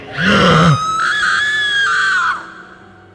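A woman lets out a loud, sustained scream lasting about two seconds, alone with no talk over it, set in a spoken horror story.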